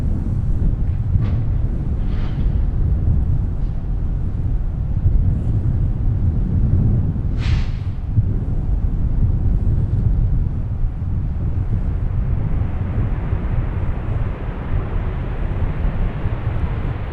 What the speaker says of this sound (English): Flight 2078 now touching down on 30 left.